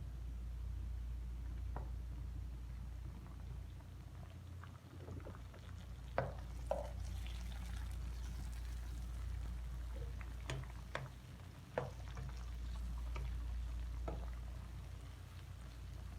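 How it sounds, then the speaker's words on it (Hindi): Chopped tomatoes and green chillies frying with camel meat in a pot, a soft low sizzle and bubbling with occasional stirring clinks and scrapes, fairly faint and steady, no talking. "और हम इसको अच्छी तरह भूनेंगे ताकि टमाटर अच्छी तरह गल जाए।"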